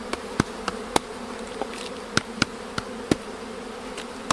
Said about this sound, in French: moi j'ai des abeilles, c'est déjà ça.